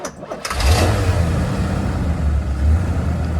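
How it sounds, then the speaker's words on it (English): A 1981 Corvette C3's 350 cubic inch V8 engine turns over and catches, then settles into a loud, deep rumble with a slight swell in revs near the end. "That is the 350 cubic inch V8 engine. It looks good, and it also does sound good."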